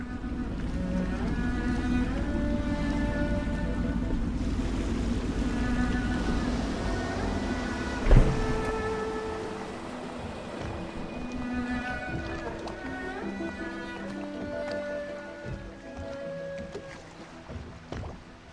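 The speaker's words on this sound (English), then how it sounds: "I should concentrate on piloting this boat." A steady low boat engine drone from the game Dishonored runs throughout with layered musical tones on top and one sharp thump partway through.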